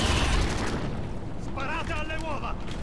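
Bomb explosions crack and rumble densely in Call of Duty Ghosts, loud and continuous, with an excited voice shouting over the din partway through.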